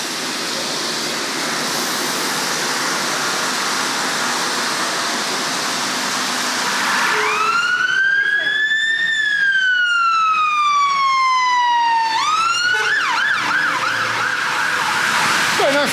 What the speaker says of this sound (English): That was a fire engine.